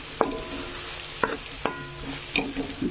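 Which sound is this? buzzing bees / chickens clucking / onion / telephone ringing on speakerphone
onion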